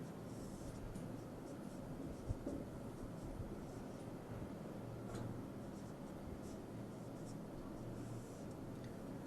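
A pen writes out a matrix by hand in a lesson, with faint, steady scratching strokes under a low background hiss and no speech.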